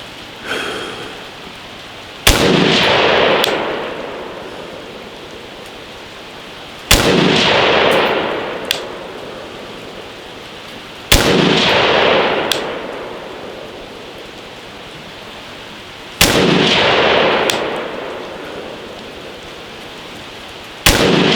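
An AR rifle with a 7.5-inch barrel fires five loud, sharp shots spaced about four to five seconds apart, each leaving a long ringing decay, with no talk in between.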